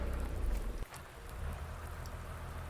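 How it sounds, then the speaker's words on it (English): Steady rain with snow falling in the Farming Simulator 19 logging game, a constant hiss of drops that is loudest at the start, then dips and holds at a softer, even level with no voices. "Wow, it's snowing and raining."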